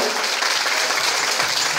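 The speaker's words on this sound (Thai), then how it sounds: "ขอเสียงปรบมือต้อนรับครับผม" Crowd applause at a launch event welcomes a veterinarian onstage, steady dense clapping heard close and continuous throughout the short stretch.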